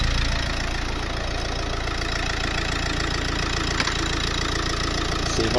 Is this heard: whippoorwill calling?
no